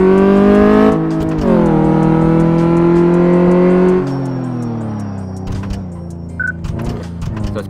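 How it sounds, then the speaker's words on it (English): A car in Car Mechanic Simulator 2014 accelerating and braking on a test track, its engine tone loud and close, climbing in pitch across gear changes, then dropping off under braking and settling to a lower rumble. "we have to accelerate down here and brake in the red zone"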